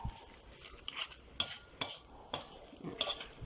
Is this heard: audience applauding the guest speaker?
no